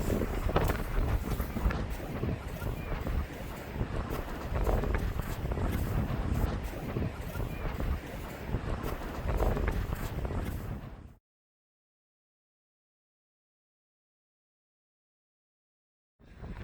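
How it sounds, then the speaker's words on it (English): Strong onshore wind blowing across a very flat Scottish beach buffets the microphone for about eleven seconds as a steady rumbling roar, then cuts to silence. "the combination of the very flat beach and the strong onshore wind"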